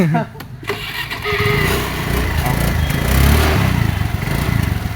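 A damaged motorcycle's engine cranks briefly, then catches and settles into a steady, loud idle rumble close by.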